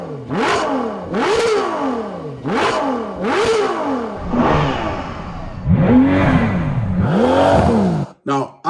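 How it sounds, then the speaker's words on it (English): Ferrari V12 engines revving in a racing video game, with four sharp rising-and-falling rev bursts followed by longer, lower swells, loud and close with no talk. "there's nothing like a Ferrari V12. Those are the best sounding engines"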